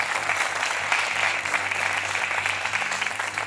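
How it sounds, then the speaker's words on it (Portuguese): Studio audience at a Portuguese game show applauds a contestant, steady dense clapping that runs evenly throughout without a break. "Mais 5 segundos de palmas para o nosso António."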